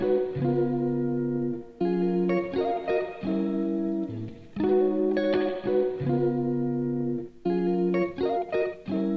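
Octatrack sampler playing a tonal synth pattern through reverb, its reverb time swept by an LFO so the tail swells from dry to fully wet and back across repeated phrases, no voices.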